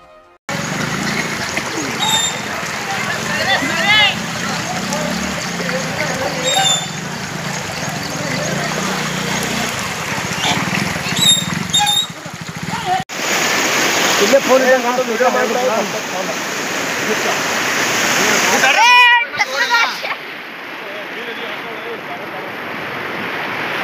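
Floodwater pours through Boroti village in Akkalkot taluka after heavy rain. A continuous loud roar of rushing water is heard, with wind buffeting the microphone and a few sharp splashes near the end.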